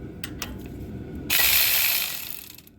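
A ratchet tightens brake caliper bracket bolts on a 2015 Dodge Journey, giving a few soft clicks and then a steady, loud stretch of rapid ratcheting that fades out near the end.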